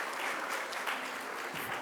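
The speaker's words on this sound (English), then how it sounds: "Please give them a warm round of applause" Applause from an audience at a panel event on gender gaps and unconscious bias, a steady, dense burst of clapping that fills the whole stretch without voices.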